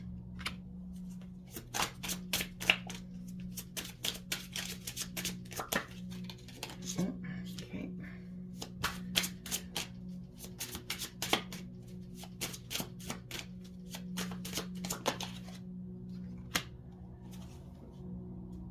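Green Witch Tarot cards are shuffled close by in a long run of crisp, irregular riffles and snaps over a low steady hum, with no talk.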